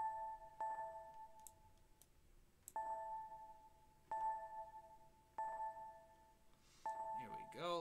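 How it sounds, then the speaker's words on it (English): A synthesizer patch shaped to resemble a bell rings a series of struck tones, each sharp attack followed by a sustained, slowly decaying ring, repeating about every one and a half seconds at low volume. "It sounds like a nice bell now."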